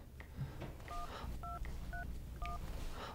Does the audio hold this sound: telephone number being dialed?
yes